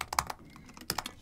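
A few quick keystrokes on a computer keyboard: two short clusters of crisp taps about a second apart, close and fairly quiet, with no voices.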